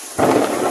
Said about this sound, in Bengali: যে বজ্রপাতের আওয়াজ, হ্যাঁ একেবারে ভয়ঙ্কর কিন্তু